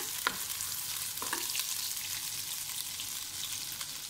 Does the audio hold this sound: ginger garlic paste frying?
yes